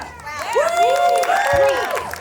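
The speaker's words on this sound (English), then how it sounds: "give yourselves a round of applause" Crowd at a retro gaming expo cosplay contest on Long Island cheering, shouting and clapping, a loud, steady swell of many voices with scattered applause over the full stretch.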